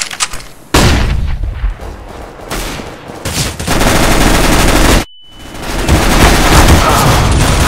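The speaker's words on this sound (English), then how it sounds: "Throwing a flashbang." Dense gunfire from Counter-Strike: Global Offensive, then a flashbang grenade goes off with a sudden blast followed by a brief dead drop and a lingering ringing tone.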